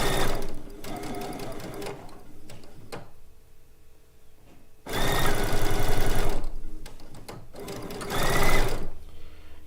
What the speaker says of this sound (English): So, now we are just going to stitch this together.